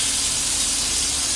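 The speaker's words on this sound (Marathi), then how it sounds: "आता फ्राय करूया मस्तपैकी असे कोलबी" Fresh prawns fry on a flat pan with a steady, close hiss of sizzling oil, brief and unbroken, with no voices.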